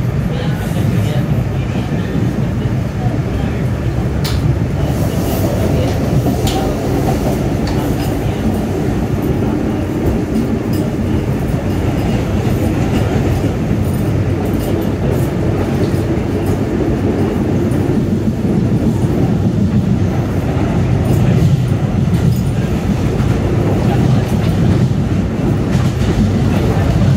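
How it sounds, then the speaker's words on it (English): Brand-new Staten Island Railway R211S subway train running between stations, a loud continuous rumble with rhythmic wheel clatter and rail noise heard from inside the car, with onboard announcements at times. "This is a Tottenville bound local train."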